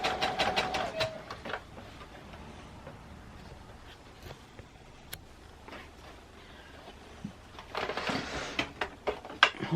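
A sewing machine stitches bias binding onto fabric in quick mechanical runs at the start and end, with a quieter pause between, close by and with no talking.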